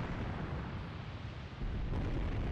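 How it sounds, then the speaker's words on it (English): Mortar shells landing in the Graviteam Tactics: Mius Front war game, dense rumbling blasts blending into a loud continuous roar, swelling slightly louder near the end. "We have some mortars hit right there."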